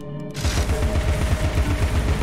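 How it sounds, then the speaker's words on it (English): Rapid gunfire in Alice Madness Returns, a fast steady stream of close, loud low thuds repeating without pause after a brief quiet start. "Let me shoot that one first."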